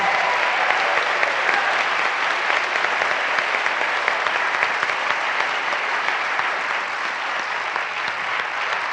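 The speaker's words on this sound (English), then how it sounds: "I'd like to first conclude with a round of applause for all of our panelists tonight" Audience applause for the panelists at the close of an atheist versus Christian debate, a steady dense clapping from the crowd that runs evenly and loud through the whole stretch with no talk over it.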